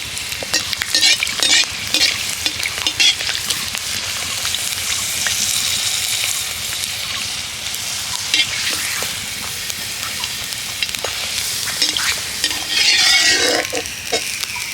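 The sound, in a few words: sago papads frying in hot oil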